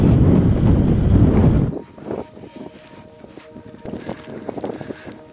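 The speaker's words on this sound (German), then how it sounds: "Der Wind war wirklich extrem" Strong wind in the Rub al Khali desert roars hard against the microphone as a loud, dense rumble, then drops abruptly to a quieter gusting hiss with faint rattling and flapping.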